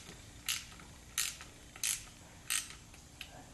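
Ratchet tightening the gear shifter hardware on a 1976 Corvette: four crisp, evenly spaced bursts of clicking about a second apart, close up, over a quiet garage background.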